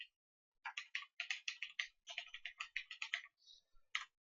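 Fast typing on a computer keyboard while entering a web address, crisp clicking keystrokes in quick bursts, close and clean against a silent background with no talking.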